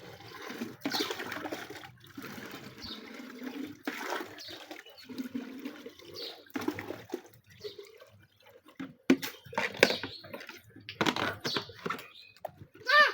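Water is poured into pots at a small hobby chicken farm, heard as a series of separate splashing, gurgling pours and drips with short quiet gaps between them.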